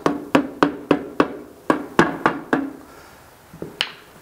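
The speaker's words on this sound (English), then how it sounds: "And just give it a few light whacks." A paint can lid being tapped shut with a series of light whacks, about nine sharp close knocks in quick uneven rhythm, then a pause and two fainter taps.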